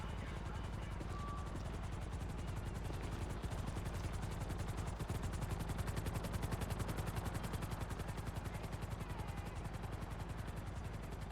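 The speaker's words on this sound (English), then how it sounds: "I'm hearing helicopters" A helicopter in GTA V: rapid, steady rotor chopping pulses thickly throughout, close and constant, with a faint voice briefly underneath.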